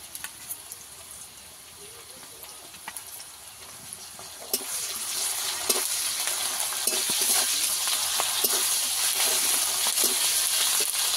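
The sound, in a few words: ginger garlic paste frying in a pan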